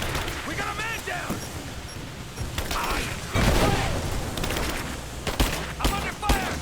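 Gunfire in the Rise of the Tomb Raider video game, with sharp shots and bursts mixed with mechanical clanks and game dialogue, growing louder and denser toward the end.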